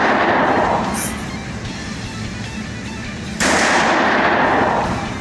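Two heavy handgun shots with strong recoil, fired outdoors at close range. Each is a loud, sharp crack followed by a long rumbling echo, with no speech between them.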